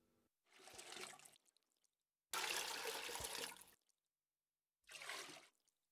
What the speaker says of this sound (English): I shall just be pouring out more water to rinse out the soap